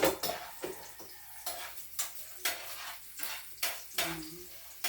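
Food frying in a pan is stirred in a home kitchen, giving a series of regular scraping strokes roughly every half second over a soft sizzle, close and fairly loud, with no talking.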